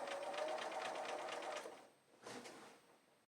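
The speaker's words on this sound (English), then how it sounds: "I've sewn it all the way around" A domestic sewing machine stitches binding onto a quilt with a scalloped border, a steady close whir running for about a second and a half, then stopping briefly before a second shorter burst.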